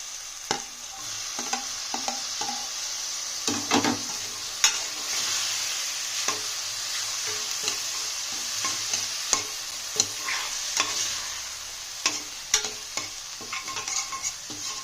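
Tomatoes sautéing in a pan for a homemade chicken curry, with a steady bright sizzle throughout and frequent close scrapes and taps of a stirring spoon against the pan, and no talking.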